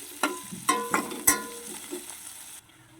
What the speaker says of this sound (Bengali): পেঁয়াজটা আমি এখানে ভালো করে ভেজে নেব।